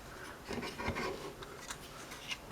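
Plastic parts of a Transformers Titans Return Voyager Class Galvatron toy are rotated into tread form, making soft close rubbing and scraping sounds with a few small clicks, quiet and alone.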